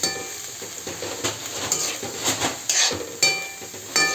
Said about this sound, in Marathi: चणा डाळ आता घालूया कोबी चिरलेला। मिक्स करून घेऊया छान।